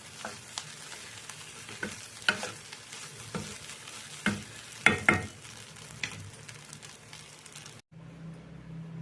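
Onion sautés with leftover chapati in a pan, giving a low, steady sizzle punctuated by several sharp scrapes and clicks of stirring, then the sound cuts to a quieter hum near the end.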